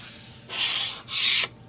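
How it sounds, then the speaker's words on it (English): A bone folder rubbed firmly across an album page to burnish in adhesive, two close, dry scraping strokes of equal length separated by a short pause. "rubbing them in really good with my bone folder"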